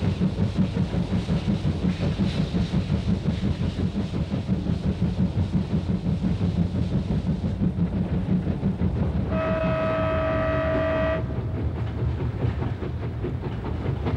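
A train on the Nanjiang Railway along the Silk Road runs steadily throughout, a loud dense rumble with rhythmic wheel clatter, and a sustained horn-like tonal whistle sounds briefly partway through.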